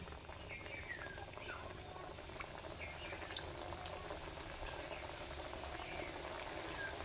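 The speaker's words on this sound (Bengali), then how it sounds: "দেখুন তেলটা হালকা গরম হয়েছে, আমি এই অবস্থায় দিয়ে দিচ্ছি একটা করে।" Khaja pastries frying in lightly warmed oil, giving a soft, steady bubbling hiss that stays faint and continuous throughout, with no talking.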